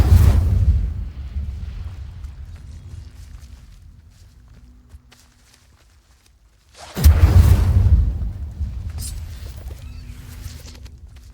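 Incendio fire spell cast in the Hogwarts Legacy video game, a loud whooshing burst that rumbles and fades over several seconds, followed by a second sudden roaring blast that trails off into crackling.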